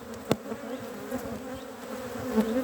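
Honeybees buzzing around open beehives during a brood frame inspection, a soft continuous hum with a few brief louder passes close by.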